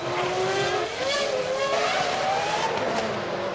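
A McLaren Formula 1 car at the 2000 Monaco Grand Prix cruises slowly after losing speed, its engine droning loud and close with a rising pitch, continuous throughout.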